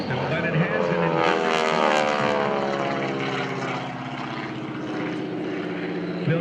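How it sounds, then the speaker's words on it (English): A highly polished North American T-6 Texan propeller airplane in US Air Force markings flies at the Blue Angels homecoming airshow, its radial engine drone steady and loud with a slowly shifting pitch, a commentator talking over it. "Bill comes over the top in this highly polished United States Air Force marking North American T-6 Texan"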